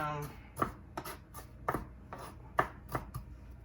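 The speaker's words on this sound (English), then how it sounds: "So you just chop it like in real fine" Knife finely chopping an ingredient on a cutting board while making a spicy chicken-veggie wrap, a series of sharp, fairly close knocks spaced irregularly at about two to three per second, with faint background room sound.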